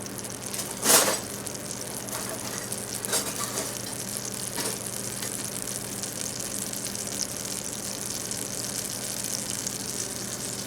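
Butter melting in a hot pan gives a steady, soft sizzle while a whisk scrapes now and then, with one sharp louder stroke near the start.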